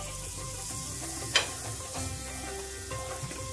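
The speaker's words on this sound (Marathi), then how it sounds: "तवा छान गरम झालाय, गॅस कमी करते आणि बटर टाकून घेते इथं" Butter sizzles and crackles on a hot griddle over low gas, a steady frying hiss with one sharp pop near the start.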